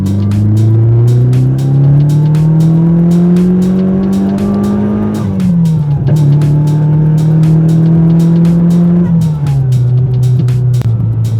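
A supercharged Porsche 924 engine driven hard, a loud, close, sustained drone that climbs in pitch, drops at gear changes and climbs again, with a steady whine layered over the roar.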